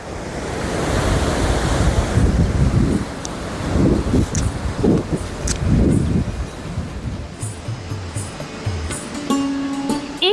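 Budhil river rushing beside the Manimahesh trek in a Himalayan valley, a loud steady roar of water with wind buffeting the microphone; the flow eases toward the end, where a faint tonal sound appears.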